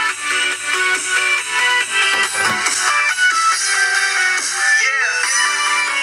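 A phone playing a tune through a passive speaker amplifier accessory that pushes the sound out through its holes, loud, bright and continuous, with no talk.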